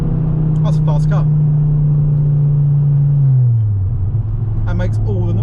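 A Ford Focus RS Mk2 engine drones steadily and loudly from inside the car while people talk over it, then the revs drop as the car eases off.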